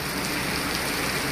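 Heavy rain pours steadily near a farm, a dense, even hiss of drops close by with no break and no voices.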